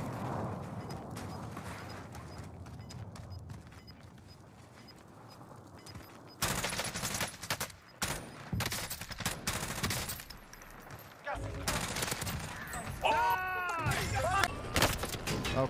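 Rapid bursts of Warzone video game gunfire crackle close and loud in dense volleys, with sharper clusters of shots in the second half, mixed with game effects and a player's voice talking over the action.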